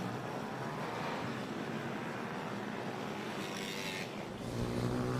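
Stock 140 pit bikes heading out onto a race track at Lydd, engines droning steadily at a distance with a continuous broad roar that swells slightly near the end.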